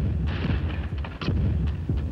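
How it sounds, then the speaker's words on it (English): A shattering explosion as a French battleship blows up at the end of the Battle of Trafalgar, heard as a continuous heavy rumble with repeated deep booms and bursts, loud and sustained throughout. "the end of the battle was marked with a shattering explosion as the French battleship La Chille blew up"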